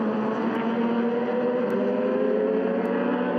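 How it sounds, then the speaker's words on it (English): Wolf Mistral race car powered by an Aprilia motorbike engine at a production car endurance race, a steady loud buzzing engine drone that holds a constant pitch, with no voices. "the Wolf Mistral. Which is powered by a Aprilia motorbike engine."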